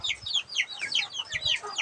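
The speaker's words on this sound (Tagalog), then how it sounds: "Itong mga sisiwagaw ay iyak ng iyak." Chicks peep and cry repeatedly after being separated from their mother hen, a quick series of high, shrill chirps overlapping close by, with a few soft low clucks underneath.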